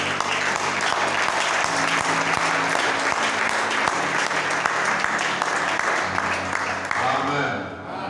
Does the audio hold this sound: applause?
yes